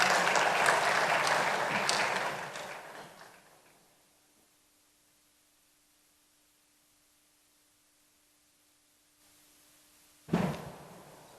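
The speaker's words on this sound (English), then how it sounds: "Another round of applause for Nana." Applause from an audience at a rural banking event, heard for a few seconds before it fades into near silence with a low hum, then a brief burst of noise near the end.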